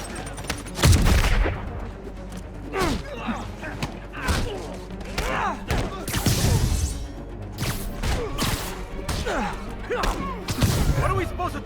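Gunfire in a Spider-Man video game at a construction site, with repeated sharp shots and heavy thuds in irregular bursts, loud and close, mixed with game speech.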